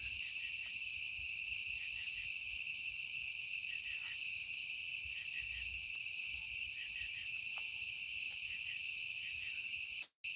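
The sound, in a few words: crickets and cicadas chirping outdoors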